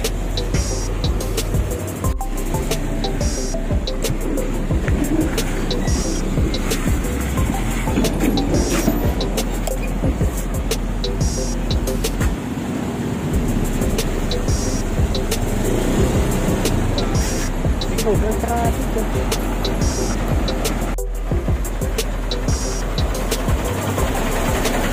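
Steady road traffic flows past on Quirino Avenue beside Skyway Stage 3 construction, with cars, buses and large trucks droning and passing continuously over a rough road, the hum persistent and fairly close, and people talking over it.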